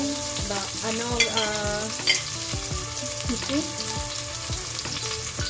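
Ginger goes into a hot frying pan for an Ilocano chicken soup with patola and sotanghon, giving a steady close sizzle with scraping stirring strokes and no talking.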